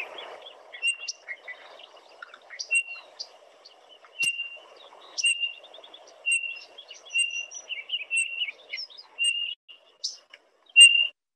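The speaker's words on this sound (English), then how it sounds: "you will hear this bird. This is a Townsend solitaire." Single clear whistled notes of a Townsend's solitaire repeat at irregular intervals against a quiet background, with softer chirps and twittering scattered between them.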